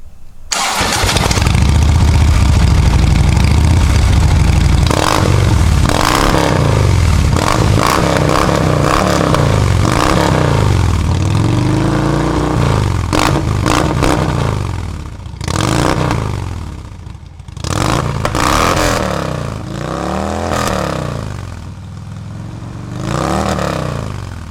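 A Harley Street Glide fitted with Rinehart 4.5-inch slip-on mufflers and DBX baffles starts and then rumbles loud and close, with repeated throttle blips and revs rising and falling over a deep idle, and no talking.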